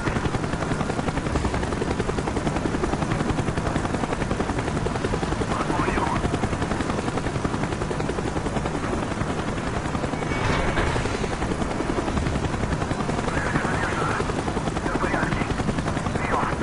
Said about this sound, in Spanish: Evite el foco del helicóptero.